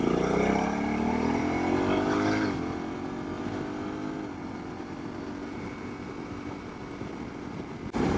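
Honda Africa Twin motorcycle loaded with large panniers, its engine rising in pitch through the gears then settling into a steady drone, with constant wind and road roar throughout and no talking.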